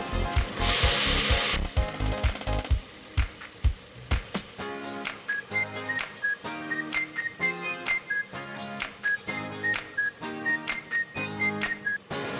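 Washed taro leaves roast in a hot pan, giving a loud, brief burst of sizzling hiss at the start before music takes over for the rest.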